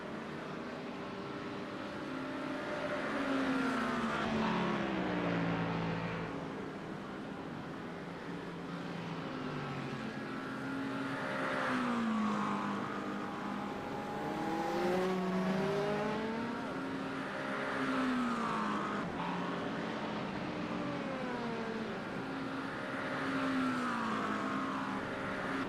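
Race cars lap the Nürburgring in a racing video game, engines whining steadily and rising and falling through repeated gear changes, with several cars droning together at a constant level and no voices.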